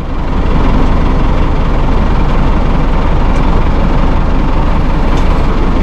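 A 2001 New Holland TL100 utility tractor drives with its engine running close by, a loud, steady low rumble that holds an even level throughout with no voices.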